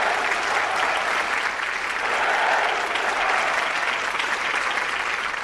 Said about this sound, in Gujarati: તાળી વગાડો.